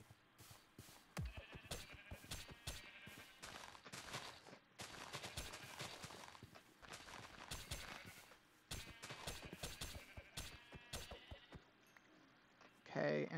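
Sheep in the Minecraft modpack RLCraft bleat amid a busy game soundscape, repeated short bursts and clicks running throughout, with a few gaps and a louder sound at the end.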